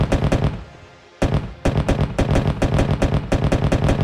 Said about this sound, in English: the Bradley suppresses the enemy with its cannon.